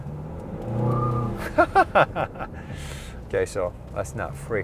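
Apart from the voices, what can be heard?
2021 Kia Sedona minivan peeling out, accelerating hard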